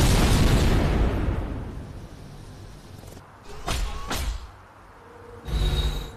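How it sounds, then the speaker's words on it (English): Orbital strike explosions from the strategy game Civilization: Beyond Earth: a heavy rumbling blast fading away, then two sharp cracking impacts and a final burst, loud and close. "Authorization for orbital attacks granted."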